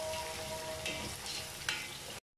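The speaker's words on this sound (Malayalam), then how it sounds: "അപ്പോൾ ഇത് നന്നായിട്ട് നമുക്കൊന്ന് വഴറ്റിയെടുക്കാം" Green chillies and curry leaves sizzle and fry steadily in a hot pan, a continuous close hiss with a couple of brief stirring scrapes, ending abruptly; no one speaks.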